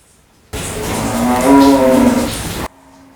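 A cow gives a single long, loud moo lasting about two seconds, rising slightly in the middle, heard close and clear with nothing else around it.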